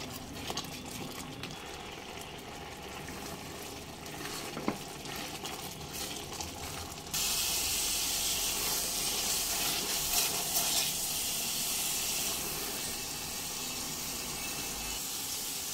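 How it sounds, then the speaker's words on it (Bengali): Carrot halwa cooking in milk in a pan while being stirred continuously, a steady bubbling sizzle with scraping stirring that turns louder and denser partway through, with no talking. "এবার অনবরত নাড়াচাড়া করতে করতেই দুধটা শুকিয়ে আসা পর্যন্ত গাজরের হালুয়াটা রান্না করে নিতে হবে।"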